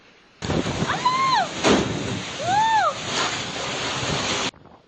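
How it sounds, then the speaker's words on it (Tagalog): Strong wind and rain roar steadily during a storm brought by Typhoon Inday and the southwest monsoon in the Philippines, a loud, continuous buffeting rush with faint tonal whines above it. "Halos walang maaninag dahil sa lakas ng hangin at ulang dala ng habagat at bagyong Inday."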